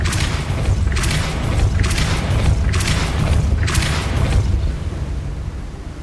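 Depulso force spell impacts in the Hogwarts Legacy video game land as a rhythmic series of four deep, forceful booms about a second apart, each with a bright crackling burst over a low rumble.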